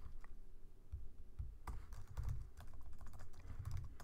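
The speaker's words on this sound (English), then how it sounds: "Oops, my typing is not good" Rapid keystrokes on a computer keyboard while code is entered in a Python programming lesson, a steady close-up run of clicks and taps with a few harder key strikes, no talking.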